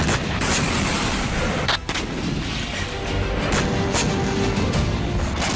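T-30 howitzer artillery fire on a front line near Toretsk, a dense, loud rumble of booming blasts and cracking reports that runs through the whole stretch, with a sharper dip and crack partway through.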